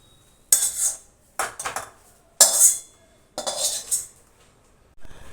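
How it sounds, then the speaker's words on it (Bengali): Rohu fish chop filling is scraped and poured from a pan, giving four separate bursts of metallic scraping and clinking, each about half a second to a second long, close and fairly loud, with no talking. "পুরটা এবার ঢেলে নেব।"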